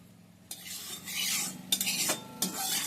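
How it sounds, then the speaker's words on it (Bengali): A spatula scrapes and spreads a little white cooking oil around a wok, giving a few close, brushing metal strokes with short clinks against the pan and no voices. "কড়াইয়ের গায়ে এইভাবে তেলটা বুলিয়ে নিচ্ছি"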